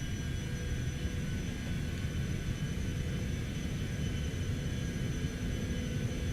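Jet engines of a Cessna Citation X spooling at takeoff thrust, a steady, loud broadband roar and rumble with faint high whine, continuous and unvarying, with no talk.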